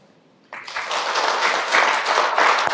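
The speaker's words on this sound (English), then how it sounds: "I just like to start with people clapping for me" An audience claps after a short quiet moment, breaking into steady, fairly close applause that continues to the end.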